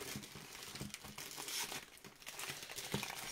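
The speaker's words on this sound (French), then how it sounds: "Alors, on va ouvrir l'emballage." Plastic packaging being opened by hand up close, with steady crinkling and crackling punctuated by a few sharper tearing snaps.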